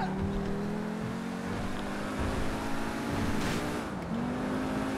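A car driven in GTA 5, a steady engine drone holding pitch with small shifts and a brief dip near the end.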